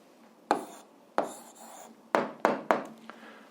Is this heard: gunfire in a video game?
no